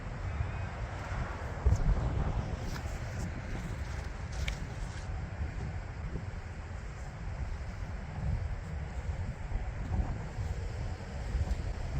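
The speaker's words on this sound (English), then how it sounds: "wind's really picking up into that pretty strong headwind right to left" A strong right-to-left headwind buffets the microphone outdoors during disc golf throws, a continuous low rumbling roar with faint distant sounds above it.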